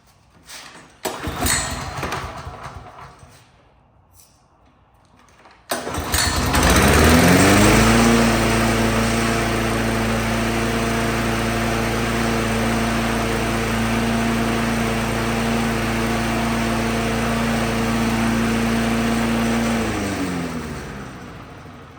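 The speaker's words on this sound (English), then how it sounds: "we got that little sensation mower going one more time" A Sensation commercial lawn mower fitted with a swapped Predator engine runs close by. After a brief start attempt it catches and settles into a loud, steady idle that drones on for about fifteen seconds, then winds down at the end.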